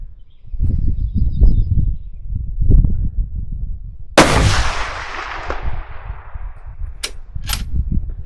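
One sharp, loud gunshot from a firearm recoil test rings out after a stretch of low rumbling background. Its echo trails off, followed by two quick fainter cracks.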